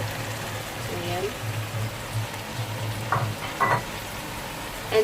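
Whole chicken pieces hit hot oil in a pan for chicken curry, giving a steady close sizzle and frying hiss. There is some stirring clatter near the end, and a voice talks over it.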